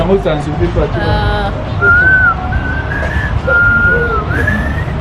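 A person whistles a few wavering tones near the mic, with some talking at the start.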